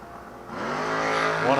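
At a drag strip, race cars including a small Mustang rev and begin to roar, the engine tone rising over a second and a half while an announcer talks over it.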